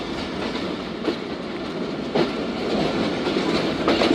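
Khyber Mail passenger train running on rails between Multan Cantt and Peshawar Cantt, a steady rumbling roll with periodic wheel clacks and a few louder knocks, recorded from on board with no talk.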